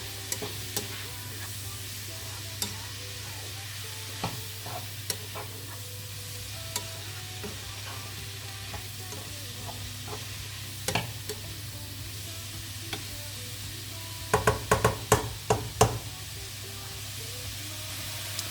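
Endives cooking in a pan, a low continuous sizzle with scattered scrapes and taps of stirring, building to a quick cluster of stirring strokes near the end, no talk.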